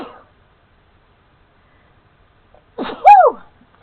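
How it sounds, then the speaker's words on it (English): A single sharp sneeze bursts out near the end of a scrapbooking workshop, preceded by a short inhale and surrounded by near silence, with a brief sound at the very start. "I told you the sneeze was coming."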